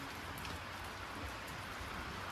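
Steady rain pattering on a surface, a dense continuous hiss with scattered drops, no voices.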